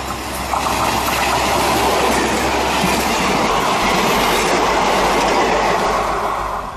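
A diesel multiple unit express on the Amritsar–Jalandhar line passes close by with a loud, sustained rumble and rhythmic clickety-clack of wheels on rail joints, swelling and then easing slightly, with no talk.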